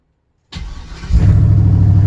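An LS-swapped car engine cranks briefly after silence, then catches and settles into a loud, steady idle close by.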